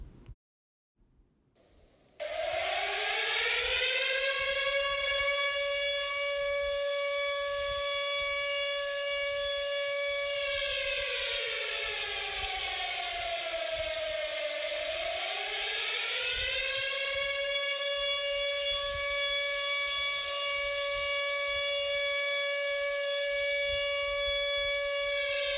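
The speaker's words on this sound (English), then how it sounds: "the all clear siren was a variable tone" A tornado civil defense all clear siren wails loudly after a short quiet start, its variable tone sliding down and rising back up in a long, slow cycle.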